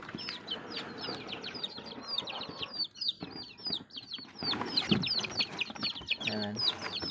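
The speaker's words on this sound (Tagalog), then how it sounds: "ang laman nito ay mga sisiw" Chicks kept in a cardboard box at home give rapid, high, continuous peeping with some rustling and brief flutters, and a voice talks softly underneath.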